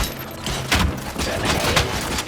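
Dense, rapid gunfire in Robocop: Rogue City, a loud continuous fusillade with heavier thumping impacts standing out, close and unbroken throughout.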